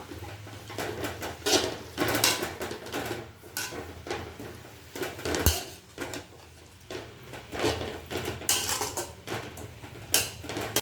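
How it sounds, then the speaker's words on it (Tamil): Drumstick leaves being stirred as they fry in a pan, with rhythmic metal scraping and clattering of the utensil against the pan in uneven bursts over a soft frying hiss, no talking. "முருங்கையில் போட்டாச்சு நல்லா கலந்து விட்டுக்கலாம் முருங்கையில் ஃப்ரை ஆகட்டும் அது வரைக்கும் நம்ம கலந்துக்கிட்டே இருக்கலாம்"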